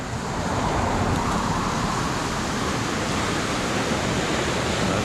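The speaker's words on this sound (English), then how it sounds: "I better watch the traffic too though." Freeway traffic passes near the Salton Sea as a continuous broadband roadway roar, steady and fairly loud for several seconds, blending with wind and no voices.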